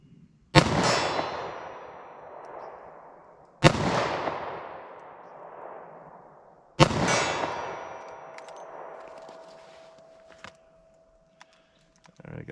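Three .38 Special +P Winchester Elite Defender rounds fired from a revolver, each a loud sharp report with a long ringing decay, spaced about three seconds apart, followed by faint handling clicks.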